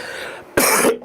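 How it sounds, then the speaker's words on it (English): A single sharp, loud cough bursts out close to the microphone after a moment of quiet, then cuts off abruptly. "Yes, I have that cough."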